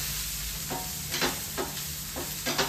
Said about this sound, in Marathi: हे शिमला मिरची पण गेली, थोडंसं जरा शिजेपर्यंत आपल्याला हलवायचं आहे